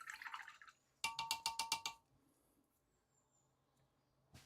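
A paintbrush used for primer on a Warhammer 40k miniature is swished and tapped in a water pot: a burst of wet sloshing, then a rapid run of about eight sharp clinks against the rim, quiet afterward with a final single tap.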